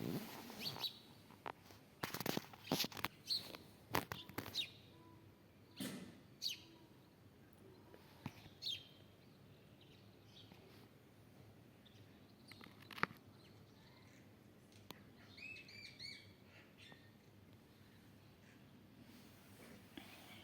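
Small birds chirp in a garden, with scattered bright tweets and brief trills between louder clattering knocks and handling noises, fairly faint against a quiet background.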